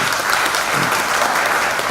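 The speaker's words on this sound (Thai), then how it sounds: "ขอเสียงปรบมือต้อนรับ" Audience applause welcoming the president of the Thai Screen Printing Association at the ASIA PRINT EXPO 2019 launch event, steady and dense clapping filling the whole stretch without voices.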